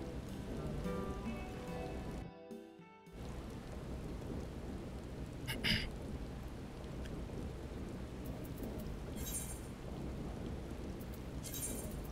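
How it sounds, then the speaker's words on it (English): Rain falls steadily in Final Fantasy XIV, a continuous hiss with occasional rumbling thunder and a short dropout in the middle, and no talking. "It's raining here as well."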